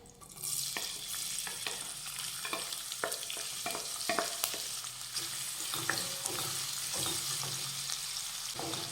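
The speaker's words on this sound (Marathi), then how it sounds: "आता हा कांदा मंद आचेवर व्यवस्थित परतून घेऊया" A finely chopped medium onion with a pinch of turmeric sautés on a low flame for dal palak, giving a steady soft sizzle broken by repeated close scrapes and taps of a spoon stirring the pan.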